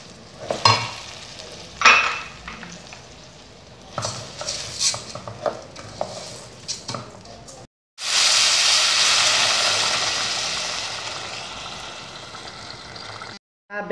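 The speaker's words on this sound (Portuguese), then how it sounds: "Tô fazendo aqui um refogadinho de alho com cebola" Garlic and onion sautéing for a goat stew meal: a spoon clinks and scrapes against the pan in short bursts, then a loud steady sizzle takes over for several seconds, with no voices.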